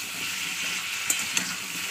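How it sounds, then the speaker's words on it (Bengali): Chopped potato and prawns with salt and turmeric are stirred in hot oil, a steady close sizzle with a couple of sharp scrapes of the spoon against the pan, with no talking. "ভালো করে তেলের সঙ্গে এটা মিশিয়ে দিচ্ছি।"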